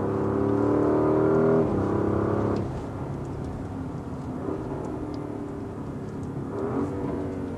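A 2024 Porsche Cayenne S with a twin-turbo V8 and sport exhaust in Sport Plus mode, revving at mid-range: a loud, held, humming engine note that drops back and settles into a steadier idle-like drone, then rises briefly again.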